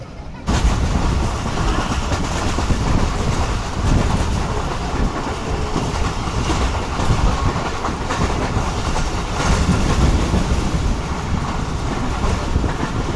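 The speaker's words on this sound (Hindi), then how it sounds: "अलग सी आवाज़ें आ रही हैं पटरियों से भी" The Jaffer Express, hauled by a Chinese-built locomotive, rolls along the rails with a steady loud rumble and rhythmic clickety-clack of wheels over track joints, wind buffeting the microphone throughout.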